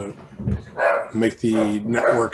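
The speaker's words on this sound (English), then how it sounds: "you may hear some dogs barking" Dogs barking inside a house, a few short barks mixed in beneath a man's ongoing speech.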